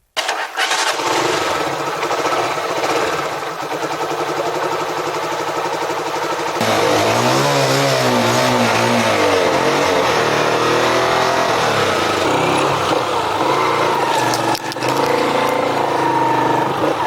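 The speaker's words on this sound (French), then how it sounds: "elle sort sa moto pour la chauffer et écouter la transmission" A motorcycle taxi engine sputters to life and settles into a loud, continuous idle while warming up, its revs wavering up and down close by.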